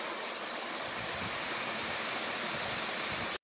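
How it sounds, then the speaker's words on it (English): A steady, broad rush of water from Cheaha High Falls fills the air, constant and moderately loud, with no voices. "You could hear the waterfall going."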